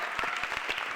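A studio audience at the Indonesian stand-up comedy show SUCI applauds the comedians, a dense, steady wash of clapping from a crowd, loud and near, with no voices over it.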